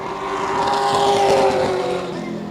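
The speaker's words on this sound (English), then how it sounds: "that rumbling and bumbling sound you hear out of his car when he hits the frustrator" A modified race car engine at La Crosse Speedway qualifying rumbles and roars loudly nearby, its pitch swelling and then easing off as it revs.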